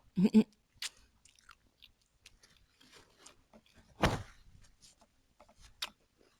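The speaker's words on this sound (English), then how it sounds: "I don't want to be smacking all over the mic, but ASMR." Close-miked mouth sounds of someone snacking: wet smacks and crunchy chewing bites come in scattered bursts, with a sharp loud bite near the start and another around the middle, between quiet pauses.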